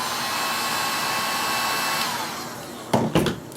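A heat gun blows hot air onto cable sleeving with a steady loud whooshing roar that drops off near the end, followed by a couple of brief handling knocks.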